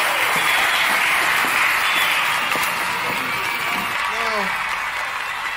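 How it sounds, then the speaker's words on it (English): A crowd gives dance-off performers a sustained, dense round of applause with a few cheers mixed in. Someone talks over the clapping. "can we get our performers to come over here and y'all get them a round of applause as well"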